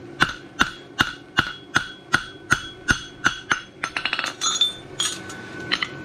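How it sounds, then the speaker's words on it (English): A blacksmith's hammer strikes a steel horseshoe on the anvil horn while forging it square, a steady run of about ten sharp ringing metallic blows, followed by a quicker flurry of lighter taps and a few final strikes. "So now I'm just forging square on the horn with my hammer and the shoe."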